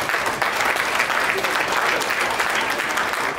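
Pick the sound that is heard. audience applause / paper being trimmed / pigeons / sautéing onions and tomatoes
audience applause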